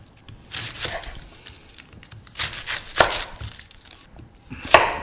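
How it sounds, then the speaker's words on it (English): A knife cuts up an onion on a board, irregular crisp chops arriving in small bursts, close and fairly quiet, with no talking. "Just got to cut an onion up."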